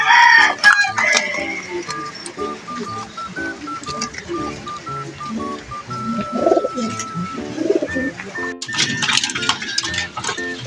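Breeder pigeons cooing in a loft, several birds calling over one another in repeated soft, rhythmic coos at close range, with occasional brief rustling and sharper chirps, no talking.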